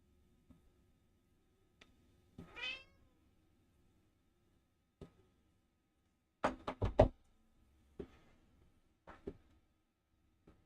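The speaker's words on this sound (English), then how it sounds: "It's my kitten." A kitten meows a few times indoors, short faint cries scattered among soft knocks and small handling noises in an otherwise quiet room, with no one talking.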